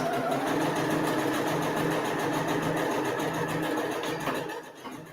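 A sewing machine runs steadily for several seconds, stitching the short end of a fabric tie for a wrap skirt, a close, even mechanical whir that eases off near the end.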